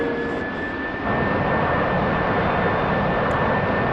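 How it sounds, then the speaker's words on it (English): Harrier jet aircraft racing down a runway in the DCS flight game, a loud, steady engine roar that surges after the first second and holds close and continuous. "That is a Harrier."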